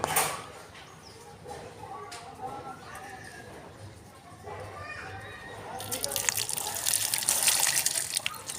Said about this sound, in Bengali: তো চলো আগে আমি সূর্যদেবকে জল দিয়ে দিই।